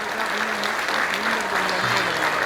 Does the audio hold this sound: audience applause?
yes